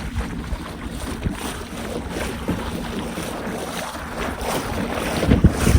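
A kayak driven at full speed by a Newport 86lb thrust electric motor on a lake, a low steady hum under gusty wind buffeting and water splashing near the hull.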